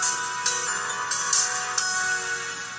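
A Doro 507S mobile phone plays its startup fanfare, a short bright electronic melody of several chiming notes, close and steady with no talk over it.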